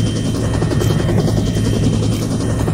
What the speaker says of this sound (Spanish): El helicóptero viene a la derecha.